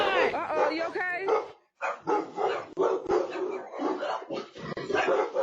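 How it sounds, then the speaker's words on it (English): Dogs bark and yip in short bursts, mixed in with people talking throughout. "Paranormal dogs activity."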